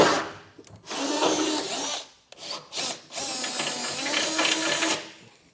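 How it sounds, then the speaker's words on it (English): Power drill enlarging bolt holes in steel for a B&W Patriot 5th wheel trailer hitch installation on a 2021 Ford F-series truck, a loud close grinding whir in long bursts with brief pauses between. "But first things first, we'll get these all enlarged."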